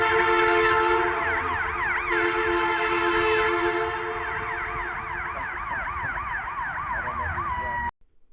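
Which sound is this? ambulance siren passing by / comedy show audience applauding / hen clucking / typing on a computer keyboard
ambulance siren passing by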